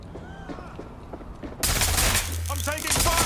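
Gunfire in the video game Watch Dogs Legion erupts halfway through, a sudden loud, dense volley of shots with ricochets and whines following quieter ambient game sounds; a voice is heard briefly.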